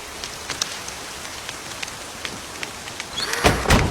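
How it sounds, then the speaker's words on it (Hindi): Sudden heavy rain patters steadily on surfaces with scattered drop hits, then a louder rushing burst swells near the end, with no one speaking. "ऐसे अचानक बारिश आ जाती है क्या?"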